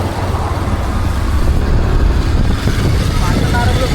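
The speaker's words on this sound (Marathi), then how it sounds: "गाडी आहे माग" Road noise from a vehicle on a highway: a loud, steady low rumble of traffic and engine with wind buffeting throughout, as another car comes past from behind, with a voice heard faintly beneath.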